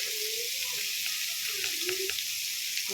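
Vegetables with tomato and capsicum sizzle steadily in a pan, a loud continuous frying hiss with a few faint stirring scrapes and no talking.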